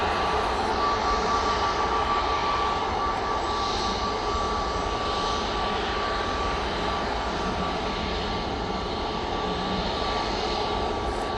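Steady, loud roar of aircraft engines at Manchester Airport, a continuous droning hum from heavy jets holding constant throughout with no talking.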